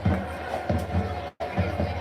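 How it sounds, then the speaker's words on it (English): Big football stadium crowd at a night college game, Greyhounds against Shippensburg, roaring steadily with rhythmic swells and surges, loud and continuous with a brief cutout near the middle. "Big crowd here tonight on both sides"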